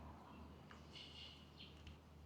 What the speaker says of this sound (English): If you listen carefully, you can hear the sound of the birds.